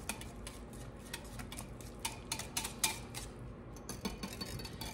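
Hot process soap batter with activated charcoal being stirred, giving a steady run of small scraping and clinking utensil sounds against the pot, close and fairly quiet, with no talking.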